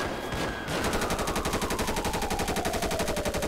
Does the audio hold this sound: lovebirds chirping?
no